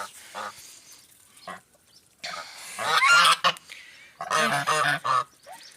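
Loud, repeated honking from several domestic geese close by in a village farmyard while they eat, coming in bursts with short quieter gaps between calls.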